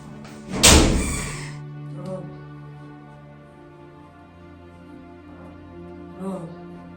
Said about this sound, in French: Je vais fermer la porte.